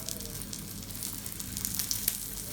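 Paratha frying in a little oil on a pan over low to medium heat, a soft, steady sizzle with small crackling pops throughout, fairly quiet and without talk.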